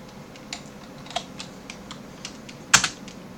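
Keys tapped on a computer keyboard in a sparse, uneven rhythm of light clicks, close by, with one noticeably harder keystroke near the end and no talking.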